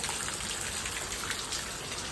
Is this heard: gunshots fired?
no